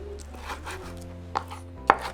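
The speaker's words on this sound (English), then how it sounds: "we're just going to cut our chipotles" A knife chops chipotle peppers on a cutting board with a few soft, close cuts and two sharper taps, over a low steady background hum.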